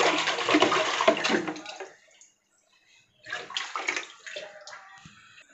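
Water from an RO purifier pours into a container with a steady, loud rushing flow, stops for about a second, then gushes again more unevenly.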